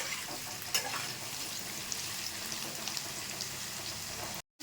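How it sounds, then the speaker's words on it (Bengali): Papaya and potato pieces frying in hot oil, a steady, faint sizzle and crackle close by with one brief clink, then a sudden short cut to silence near the end. "পেঁপে আলুটাকে একটু সময় নিয়ে ভেজে নেব, যাতে কাঁচা গন্ধটা"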